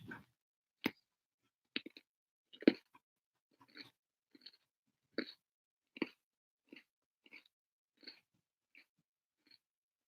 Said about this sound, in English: Can y'all really hear me crunching?